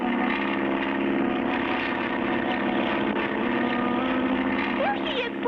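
A propeller cargo plane drones steadily and loudly throughout in a cartoon adventure scene, its engine hum constant with slight pitch wavering near the end; no one speaks over it.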